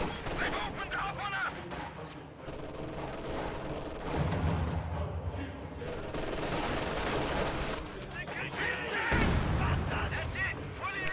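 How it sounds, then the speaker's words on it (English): Mortar bombardment in a real-time strategy battle, a dense run of muffled booms and crackling gunfire layered over continuous battle noise, with heavier low thumps near the middle and end. "Mortars bombarding over here."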